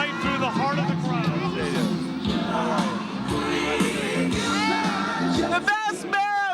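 A dense New Year's Eve crowd on the Las Vegas streets, with loud babble, whoops and shouts all around, and a person talking close by.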